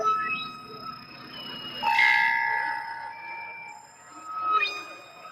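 A train passes in a movie scene, with a rolling rumble and sustained tonal horn-like wails that swell around the middle and again near the end, heard at moderate level without talk.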